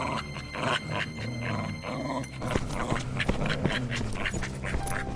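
A dog growls and grunts in a Hindi cartoon set in a jungle while it grips someone's leg. The rough, continuous snarling sits in a dense, busy mix of background sound.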